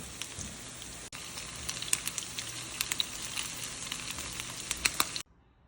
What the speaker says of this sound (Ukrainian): я виклала на сковорідку і смажу їх з двох сторін